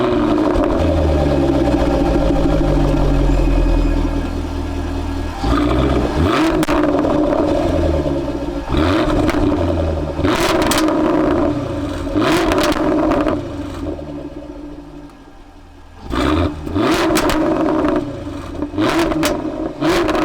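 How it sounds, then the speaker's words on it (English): A British supercar's exhaust revs hard several times, loud and close: sharp throttle blips flare and fall back to a rumbling idle, with a brief drop near silence before the engine picks up again. "But the sounds of the exhaust are another thing that you got to take a look at."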